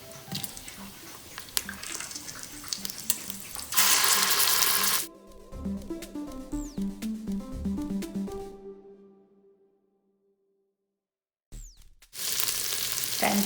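Ginger garlic paste and green chilies hit hot oil with spluttering cumin seeds for chicken pulao, a loud crackling sizzle that fades into quieter popping, drops to near silence, then bursts back into strong frying.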